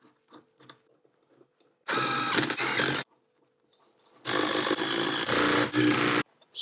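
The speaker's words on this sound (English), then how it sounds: "So I'll put the bolt through like that. Get it in a couple of turns." Two bursts of a power tool driving a bolt into a brake caliper during a caliper conversion, a loud whirring run of about a second, a pause, then a longer two-part run, with faint clinks between.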